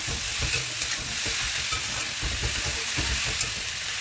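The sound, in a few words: vegetable chop filling frying and being stirred in pan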